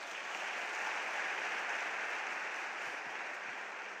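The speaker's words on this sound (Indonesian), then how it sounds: "aplaus buat Anda semuanya" Sustained, dense applause from a seminar audience at a business motivational event, loud and steady throughout with no voices on top.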